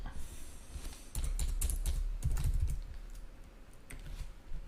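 Someone types a short word on a computer keyboard while working in Adobe Illustrator: a few clustered bursts of clacking keys up close, separated by brief pauses, with no one talking.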